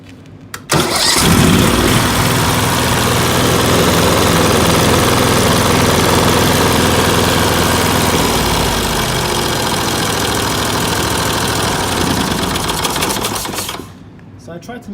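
Briggs and Stratton 18HP Vanguard small engine fires up and runs steadily at half throttle, a loud continuous drone lasting about thirteen seconds before cutting off near the end.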